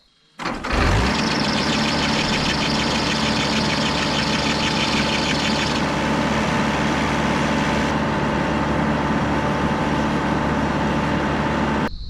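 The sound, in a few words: engine running with squealing drive belt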